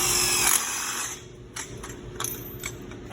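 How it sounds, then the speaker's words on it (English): A power drill drives a tech screw into the swivel clamp of a bleacher guardrail post, a close high whine that runs steadily for about a second and then gives way to a few faint clicks and taps. "So I'm going to go ahead and put a tech screw"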